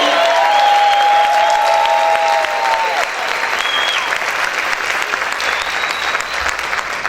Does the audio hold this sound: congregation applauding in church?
yes